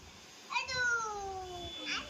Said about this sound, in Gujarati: અને કેટ કેટ ક્યાં? સુધુ કેટ બતાવ